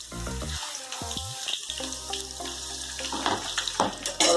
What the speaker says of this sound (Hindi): अब इसमें ऐड कर देंगे, शामिल कर देंगे प्याज।